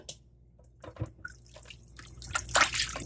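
Chicken feet get washed in water, with scattered close splashes and drips that grow busier and louder toward the end as the water is swished around.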